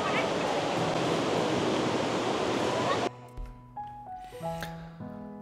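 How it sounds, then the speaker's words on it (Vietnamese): The flowing stream at Suoi Mo in Da Lat gives a loud, steady, close rushing roar for about three seconds, then cuts off abruptly to quieter tonal sounds. "Trong khu vực này có một con suối rất là đẹp, nước trong, rất đã luôn."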